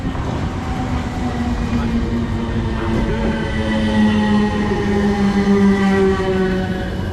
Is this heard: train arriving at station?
yes